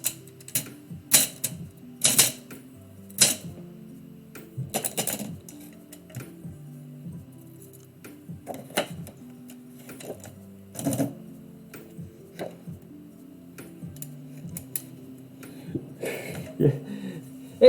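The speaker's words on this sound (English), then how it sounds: "I was just showing off this typewriter." Typing on an Olympia SM9 manual typewriter: sharp key strikes land in irregular bursts with spaced clacks and mechanical rattles, close and fairly loud over a low background hum, with no one talking.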